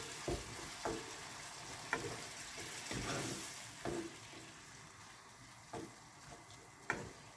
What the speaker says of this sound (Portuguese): Mexer bem.